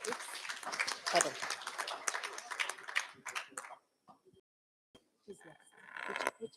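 Audience applause at a formal ceremony marking an aviation market anniversary, dense clapping filling the first few seconds, then fading into near silence with brief talk and a short second burst of clapping.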